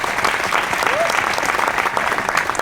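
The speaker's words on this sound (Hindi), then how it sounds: "हमारे पूरे मैनेजमेंट के लिए एक बार जोरदार ताली होनी चाहिए" Audience clapping for a company's management at a corporate event, dense steady applause filling the room, loud and continuous with a faint tone passing briefly.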